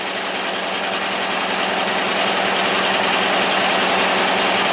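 A Briggs engine on a Wheel Horse GT-1800 garden tractor idles with its choke partly on, giving a loud, steady, unbroken drone that stays close and even throughout with no voices.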